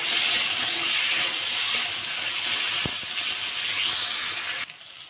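Chopped potatoes, peas and green chillies frying in a pan give a steady, close sizzling hiss that drops off sharply near the end, with no talk.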